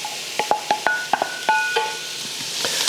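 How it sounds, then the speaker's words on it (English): Chopped peppers and onions go into a dark roux for a Southern chicken and sausage gumbo, giving scattered scraping stirs and clicks of a spoon against the pot over a soft sizzle, quiet and close. "So once we get this right to the color we want, we're gonna go in with our peppers and onions."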